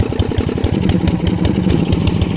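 Staub 7000 tiller engine running steadily after starting, a close, loud, fast chugging putter with a metallic clatter and a slight rise in revs.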